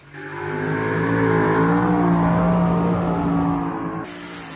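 A truck or tractor engine at a tractor pull at the Illinois State Fair revs up and holds a loud, rising droning roar for several seconds before dropping off.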